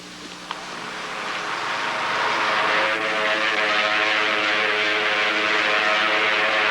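Propeller warplane engines over Pearl Harbor drone steadily and swell louder as the aircraft approach, a sustained rumbling roar with no voices.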